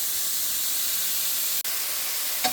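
Steak bites searing in a hot pan give a steady, even sizzle and hiss that runs throughout, with one brief sharp click near the end.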